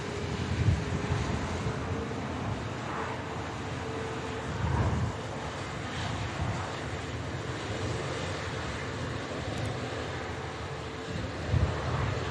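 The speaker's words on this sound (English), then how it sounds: "Malta Air 737 in the Ryanair colours on the taxi out as well" A Ryanair-liveried Malta Air Boeing 737 taxiing at Manchester Airport produces a steady, distant jet engine rumble and whine, blended with wind noise over the microphone and broken by a few louder gusts.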